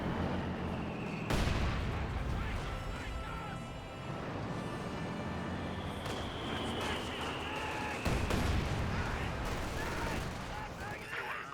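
Sustained battlefield gunfire from German Obersoldaten infantry in Company of Heroes 2, dense overlapping rifle and automatic shots with sharp louder bursts near the start and around the eighth second, mixed with other combat noise and commentary.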